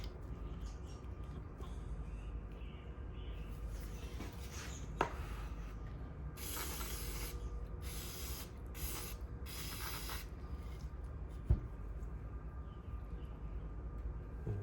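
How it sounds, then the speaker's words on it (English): Brake parts cleaner sprayed through Kubota ZD28 mower fuel injectors, heard as several bursts of hissing spray between about 4 and 10 seconds over a steady low background hum, with a couple of sharp clicks. "what I'm gonna use to clean them is just regular brake parts cleaner"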